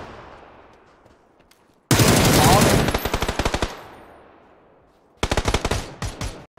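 Gunfire in a shooting video game: a loud close burst of rapid automatic shots, a pause with fading echo, then a second rapid burst, with no talk over the shots.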